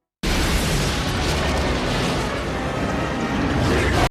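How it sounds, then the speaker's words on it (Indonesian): Helicopters fire into a hole in a building during a Godzilla film scene, heard as a dense, continuous roar of loud blasts and bursts that runs steadily for about four seconds with no talk. "Mereka kumpul dan nembak ke dalam lubang."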